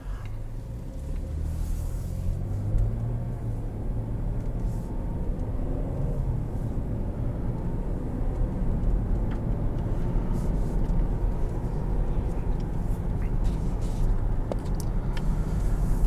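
A 2020 Cadillac XT6 Premium Luxury driving in Sport mode, heard as a steady low engine and road drone with tire and wind noise, moderately quiet and continuous without talk.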